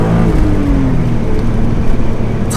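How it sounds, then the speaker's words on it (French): A BMW M straight-six engine runs loud and close, a steady metallic drone with a slight pitch sweep as revs shift, heard alone without speech. "Il y a le son moteur qui vient bien d'une BMW M"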